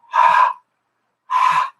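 Two slow open-mouthed exhales, the warm hazy breath used to fog glass when demonstrating Ujjayi yoga breathing, each about half a second long with a short pause between, close and fairly loud.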